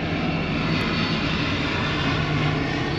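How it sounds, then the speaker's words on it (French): An airplane engine drones loudly and steadily as it passes overhead near a harbour, a broad continuous roar that fills the whole span with no talk over it. "il y a un avion qui est passé"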